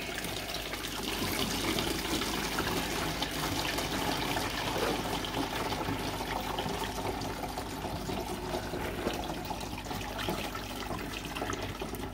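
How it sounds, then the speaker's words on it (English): Hydrochloric acid solution is poured from a vessel back into a container, giving a steady, continuous liquid splash and trickle close by, with no talking. "So now I'm just going to pour this back into the container."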